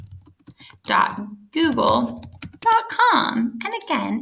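Keys clatter on a computer keyboard as a web address is entered into a browser search bar, a quick run of soft, close clicks at the start and then continuing faintly beneath a person speaking.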